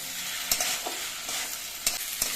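Mustard-poppy seed paste fries in a pan while being stirred, a steady close sizzle broken by several sharp spoon scrapes and taps against the pan.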